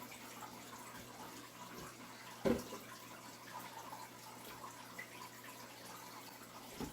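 Water poured over potted jade plants, a quiet trickling wash with a sharp knock partway through and scattered small drips, faint and close with no speech.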